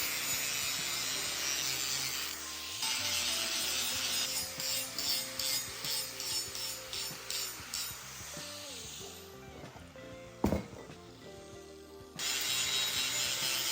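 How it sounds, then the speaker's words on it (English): Steel being filed or ground to round off the horn of a blacksmith's anvil, with a steady rasping scrape, rhythmic strokes in the middle and a brief sharp knock near the end. "I'm rounding off the horn of the anvil"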